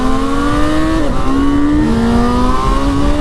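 A 2025 Honda CB1000 Hornet SP motorcycle engine drones loudly and steadily, dips in pitch briefly, then pulls upward again in a continuous, hard-revving run as the exhaust valve opens.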